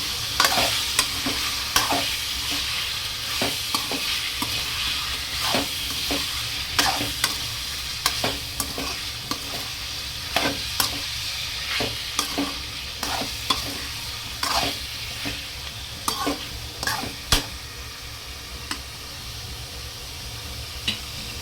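Chicken frying with turmeric powder and salt is stirred in a pan over a steady sizzle, with repeated close spoon scrapes and clicks throughout and no talking.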